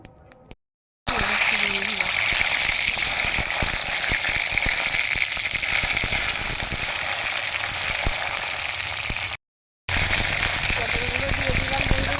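Sliced pointed gourd (potol) dropped into hot oil in a heated wok sets off a loud, steady hiss and crackle of frying that runs continuously, with a brief cut partway through.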